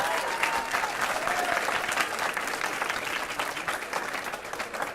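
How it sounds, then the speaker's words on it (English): Applause for a semifinalist team at a high school quiz competition: a sustained burst of dense clapping from an audience, loud and steady for the whole stretch. "a big round of applause for TABS"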